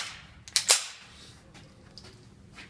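A single sharp, muffled crack from a 9mm SIG P226 Elite Tactical pistol with an Osprey 45 suppressor, fired into a backstop, followed by a short decaying tail against quiet outdoor background.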